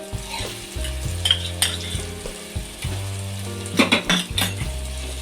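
Ginger garlic paste frying in a pan for egg biryani, a loud close sizzle while a metal spoon stirs and clinks against the pan in uneven strokes, with no talk.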